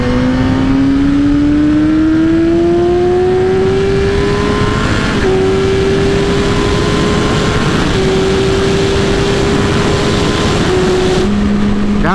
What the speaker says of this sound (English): I love the power of this bike in the upper RPMs